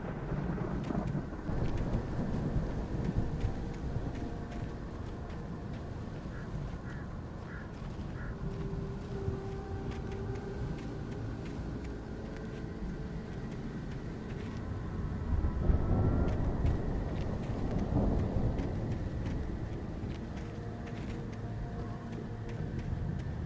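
A thunderstorm in the video game Alan Wake Remastered: steady rain and a low rumble fill the scene, and thunder swells louder around the middle and then rolls off, with no talking.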